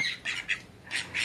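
A cockatiel gives a run of close, loud, harsh squawks, about five bursts in quick succession with short gaps between them.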